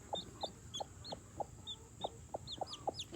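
A newly hatched baby chick peeps in a steady series of small, high chirps, with soft background hiss and no talking.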